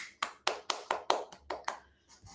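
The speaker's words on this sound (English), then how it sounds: "Let us give a round of applause for Toastmaster Bimpy Kumari for essay role." A short burst of scattered hand claps at an online Toastmasters club meeting, about eight sharp claps in an uneven rhythm, fairly close, tapering off at the end.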